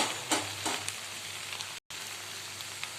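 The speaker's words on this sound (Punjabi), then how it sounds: "ਥੋੜੀ ਦੇਰ ਆਪਾਂ ਹੋਰ ਪਕਾਵਾਂਗੇ ਮਸਾਲਿਆਂ ਪਾ ਕੇ" Okra frying with spices in a pan gives a continuous close sizzle with a few louder stirring scrapes early on and a brief dropout near the middle, no voices.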